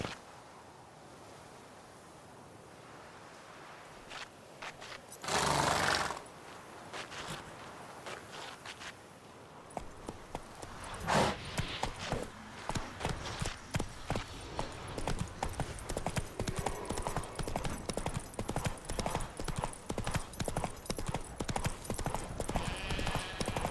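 Roach, the horse in the video game The Witcher 3: Wild Hunt, sets off at a gallop with a burst of close hoofbeats. The steady clip-clop then grows louder and denser into a fast, continuous rhythm.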